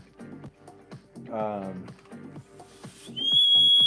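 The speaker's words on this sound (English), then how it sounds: "so you can hear the whistle as the pressure's building up" A shrill, steady breathing-apparatus pressure alarm whistle starts near the end as pressure builds and stays loud, after a stretch of clicking and a brief voice-like sound.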